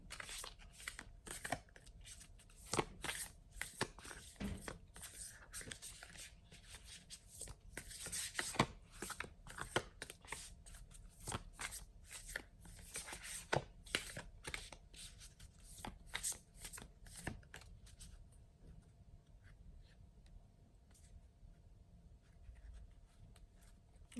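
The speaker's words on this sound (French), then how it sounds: "Alors on va tirer une carte conseil de cet oracle." Oracle cards are shuffled by hand before one is drawn, producing a long run of soft, close riffling and sliding card sounds in quick irregular taps that thin out and stop near the end.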